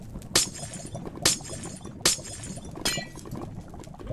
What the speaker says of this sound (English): is bust out this window here